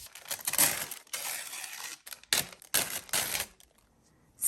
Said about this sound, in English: I'm going to use my tearing ruler to just tear around this image.